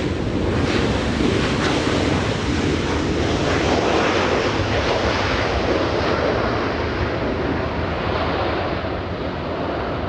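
A jet airliner roars at Los Angeles International Airport, a sustained broad rumbling roar mixed with heavy wind buffeting, loud and steady throughout.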